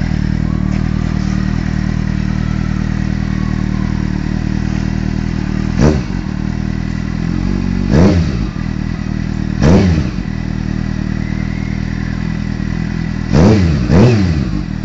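A Kawasaki Z750S motorcycle idles loudly and steadily through its exhaust, broken by four short throttle blips that rise and fall, the last two coming close together.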